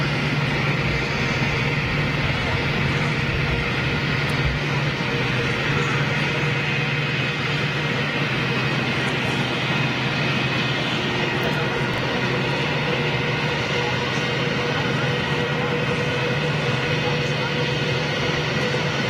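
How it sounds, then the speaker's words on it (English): An Etihad Airbus A330 jet passes by, a steady broad roar with a low engine hum that holds constant for the whole stretch, with faint background noise. "We'll get that Etihad 330 coming right past our position"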